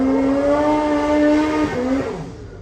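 A Gen 5 drag race car accelerating hard, a loud, close engine roar with rising harmonic pitch that drops and fades toward the end, with no talk.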